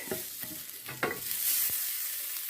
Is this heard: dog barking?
no